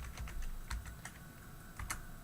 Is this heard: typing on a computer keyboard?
yes